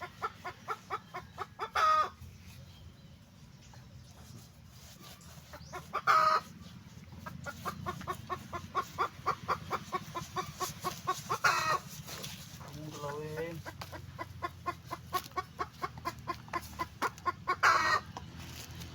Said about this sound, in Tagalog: Ang ingay ng manok natin Yan, doon kasi malapit lang kasi ang kanyang pugad.